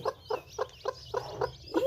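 A hen clucking in a steady series of short bursts as chicks hatch, about seven in two seconds, fairly close, with a faint rumble of background noise.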